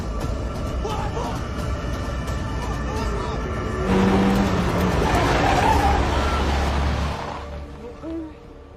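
A car approaches on a road, swelling into a loud, close rushing roar with a brief tonal screech of tyres before fading; frantic voices shout over the scene.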